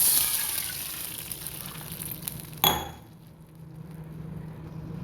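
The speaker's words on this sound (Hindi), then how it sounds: "हमने थोड़ा सा ऑयल डाला इसमें, और अब हम इसमें पानी डाल देंगे।" Water poured into a hot pan with a little oil hits with a sudden hissing burst, then the sizzle settles into a quieter, low simmer.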